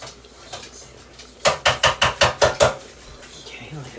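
Pork hocks get flipped in a pan, setting off a rapid run of about seven sharp metallic clanks against the pan in an even rhythm, close and loud, with quieter kitchen noise before and after.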